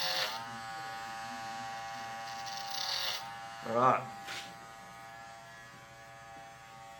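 Electric hair clippers hum steadily and fairly quietly while cutting a flat top over a comb, the buzz holding level with slight changes in pitch, under a man's occasional speech.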